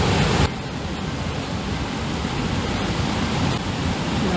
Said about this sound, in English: Look how beautiful this waterfall is.